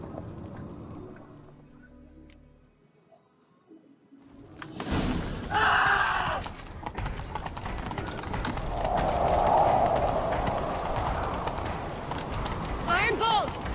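Horses galloping in The Witcher video game, rapid hoof clip-clop building after a quiet start, with characters' voices and game sound mixed in over the drumming hooves.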